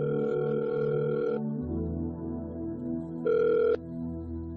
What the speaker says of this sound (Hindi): अर्जुन, नित्या का फोन।